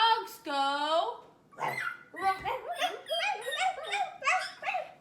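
A human voice imitating a dog while reading a children's story aloud, giving a long whimpering yelp followed by a series of short bark-like yips and woofs, close and clear.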